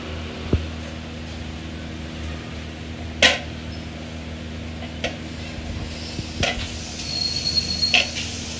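Spice paste masala frying in a pan gives a low, steady sizzle, broken by occasional sharp clinks of a spoon stirring against the pot. No one speaks.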